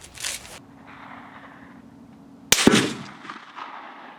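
A gunshot fired with surplus ammunition at an outdoor shooting range, one sharp loud crack with a brief echoing tail, following quieter background rustle and a faint hum.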